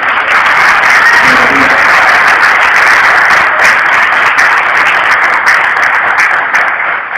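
Dense, continuous applause from a church congregation fills the space at a loud, even level throughout, a sustained wash of many hands clapping with no pauses.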